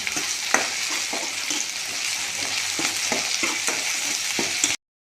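Ginger-garlic paste stir-fries with onion and tomato in a pan, a dense continuous sizzle with repeated scraping stirs at a steady pace, close by. It stops abruptly near the end.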